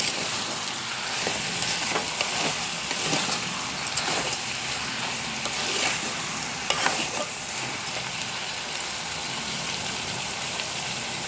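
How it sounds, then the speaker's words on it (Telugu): Broad beans and tomato curry sizzle steadily in a frying pan while a spoon stirs through the pieces, with scraping strokes over a continuous hiss and no talking. "చక్కగా ఒకసారి మిక్స్ చేసుకుందాం అన్నీ కలిసేలాగా ముక్కలు"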